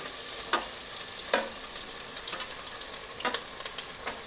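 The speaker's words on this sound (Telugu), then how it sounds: "ఆయిల్ వేసుకున్నాం కదా వేడెక్కింది ఇందులో ఉల్లిపాయలు పోసుకోవాలి" Chopped onions sizzle in two spoons of heated oil in a home kitchen, a soft steady hiss broken by faint scrapes of a stirring spoon at intervals.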